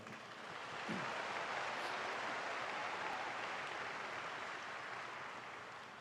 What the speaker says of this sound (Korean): 앞으로 새롭게 선출될 국민의힘 지도부에 우리 모두 다 함께 뜨거운 박수를 보냅시다